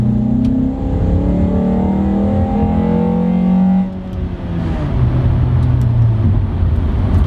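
The engine of a manual-transmission car in second gear climbs in pitch under hard acceleration. Its note drops briefly at a shift, then builds again as a loud, steady in-cabin drone.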